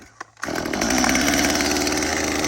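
A chainsaw starts with a quick pull and then roars into a loud, steady buzzing idle that runs continuously, close by.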